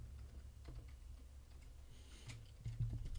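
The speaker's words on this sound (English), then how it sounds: "I'm kind of clicking on the keyboard" Keyboard clicks tapped out near a computer setup for an HDMI-to-USB converter, scattered light ticks over a steady low hum, with a slightly busier flurry toward the end.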